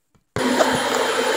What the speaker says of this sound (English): so my vacuum is on. The vacuum is on, and you might be able to see me doing my carpet.